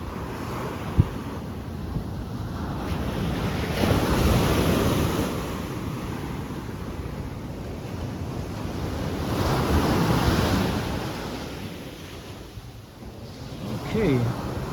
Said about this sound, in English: it's right on the beach